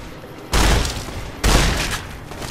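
Two loud, close shotgun blasts from a super shotgun in Fallout New Vegas, about a second apart, each a broad booming burst that decays with a short rumbling tail.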